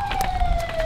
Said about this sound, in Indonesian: Itu ambulan.